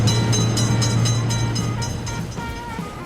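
Near the end of a train's pass at a road level crossing, a continuous low rumble of wagons runs steady with faint rail clatter and no voices.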